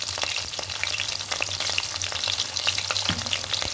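Cumin, chana dal and mustard seeds fry in hot oil, giving a steady, close crackling sizzle with scattered small pops throughout, no voices.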